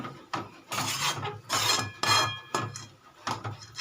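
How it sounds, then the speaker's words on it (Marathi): Upma being stirred and mixed in a pan with a spoon, making scraping, rubbing strokes in uneven bursts, close and fairly loud, with no talking. "आता हा बऱ्यापैकी माझा उपमा जो आहे तो बनत आला आहे तर व्यवस्थितरित्या मिक्स करून घेते"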